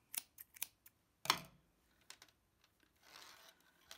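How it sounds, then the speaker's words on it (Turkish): Scissors snip yarn during baby cardigan crochet work, with a few faint, sharp clicks and one clear cut near the middle, followed by soft rustling of the yarn, close and quiet with no talking. "İpi kesiyorum."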